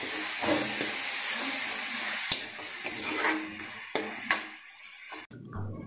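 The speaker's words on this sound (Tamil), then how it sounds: "இஞ்சி பூண்டை 2 செகண்ட் நல்லா வதக்கி விடுங்க." Ginger garlic paste sizzles and hisses as it is sautéed in a pan among onion and tomato for egg curry, with a steady close frying crackle broken by a few scraping stirs and clanks.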